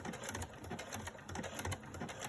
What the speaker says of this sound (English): it's a fairly thick layer that I'm sewing here